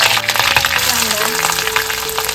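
Onions frying in hot oil along with garlic and curry leaves for a home-style Maharashtrian fish curry, a steady crackling sizzle with sharp pops and stirring scrapes, close and continuous with no talking.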